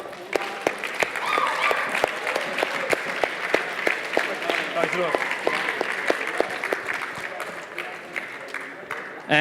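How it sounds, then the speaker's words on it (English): Hearthstone tournament crowd applauds a third-place finisher at the Nordic challenger cup ceremony, a dense clapping wash with sharp individual claps punching through, while an announcer and other voices talk over it. "Give him a round of applause."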